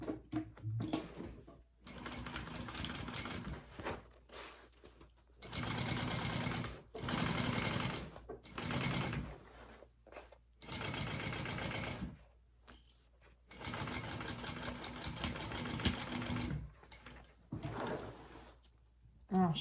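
Sewing machine stitching a tote bag, running in several close bursts of rapid mechanical whirring, separated by short pauses and lifts.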